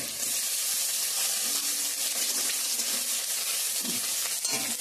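Onion and garlic sizzle steadily in a hot pan for a cauliflower curry, a loud, continuous crackling hiss with brief stirring scrapes near the end and no voices.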